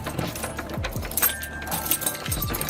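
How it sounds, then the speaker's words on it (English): A bunch of keys jingles and clinks in short metallic rattles, close by, with a few soft thumps in between and no voices. "Stupid keys."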